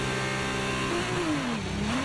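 A Formula 2 car in the F1 23 racing game holds its revs for a manual race start at Bahrain, then launches. A loud, continuous engine whine dips and climbs in pitch over a couple of seconds, with no talk.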